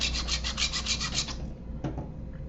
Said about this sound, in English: filing it down,